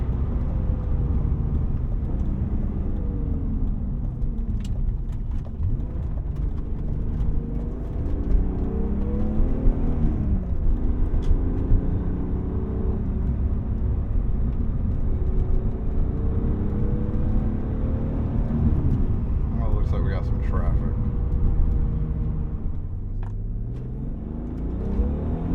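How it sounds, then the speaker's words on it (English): A 1999 BMW M3 E36 cruising at speed, its engine humming steadily with induction whir and road rumble filling the cabin, continuous and fairly loud with no talking. "Really good injection noises on this car."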